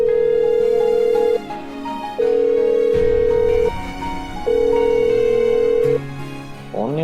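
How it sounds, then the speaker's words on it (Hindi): A telephone call rings out unanswered: a ringback tone sounds in three long, evenly spaced pulses with quiet gaps between them, clear and close, ending with a brief burst of noise. "फोन नहीं उठा रही राधिका"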